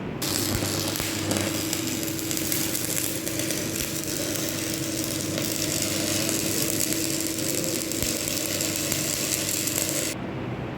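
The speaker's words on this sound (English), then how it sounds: "now start welding for final weld, corner joint." The final weld on a corner joint runs as a steady, continuous crackling buzz that holds evenly for about ten seconds and then cuts off abruptly.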